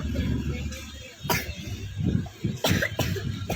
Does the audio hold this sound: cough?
yes